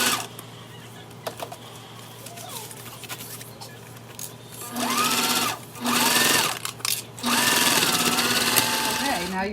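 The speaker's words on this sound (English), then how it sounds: "sew that down at a quarter of an inch" A sewing machine stitches lining pieces for a wristlet in several bursts of rapid whirring, the last two longest, close and loud after a quiet stretch with scattered light clicks.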